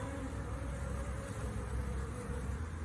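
Honey bees buzzing around a hive holding a caged queen, a dense, continuous drone of many insects close by, steady and loud with no voices.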